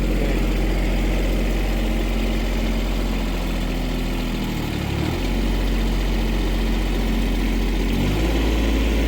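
An International TD6 crawler tractor's diesel engine running in first gear, a loud, deep, steady chugging rumble close by, with brief dips in pitch partway through and no talking.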